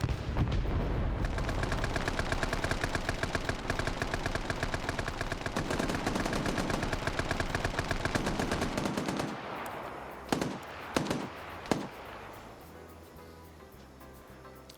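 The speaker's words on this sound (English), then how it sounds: "4 or 5 different grenades just went up." Heavy automatic gunfire and booming blasts from several grenades going off in a Vietnam War multiplayer video game match, loud and sustained before thinning into a few sharp isolated bangs.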